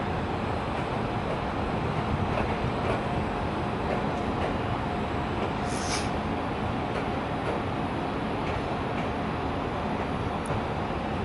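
A Flirt regional train pulls out of Budapest Nyugati station, a steady broad rumble of wheels and motors rolling on evenly for about eleven seconds, with a brief high squeal partway through and no talking.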